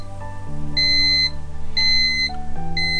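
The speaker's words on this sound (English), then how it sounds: "I'm going to press the set button once to quiet the alarm." An AccuTherm 8002 vaccine temperature data logger sounds its alarm: loud, close electronic beeps repeating in a steady pattern of short bursts over a continuous tonal background.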